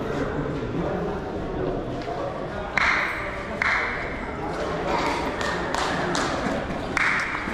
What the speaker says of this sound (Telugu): అందుకని అందరూ క్లాప్స్ కొడుతున్నారు అన్నమాట.